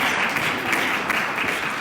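A crowd at an awards gala fundraising dinner keeps up continuous clapping, a loud, even roar of many hands with talk faintly mixed in.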